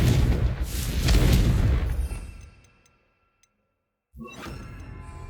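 Confringo fire blasts from Hogwarts Legacy boom and whoosh in heavy, loud bursts, fall to near silence for a moment, then a fresh fiery explosion erupts.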